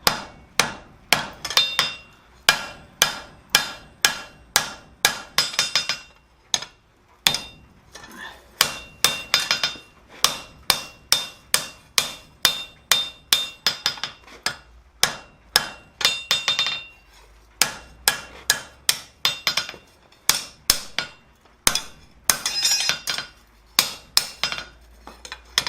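A blacksmith hammers hot steel on an anvil while forging a flower coat hook, striking steady, ringing metallic blows in a regular rhythm, close and loud, with brief pauses between runs of strikes.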